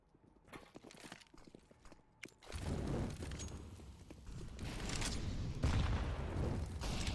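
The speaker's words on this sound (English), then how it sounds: "Oh, that is a juicy nade." Grenade blast in a competitive online shooter match: a sudden heavy boom midway through, after quieter scattered footsteps and gunshots, followed by a dense, sustained roar of gunfire and rumble.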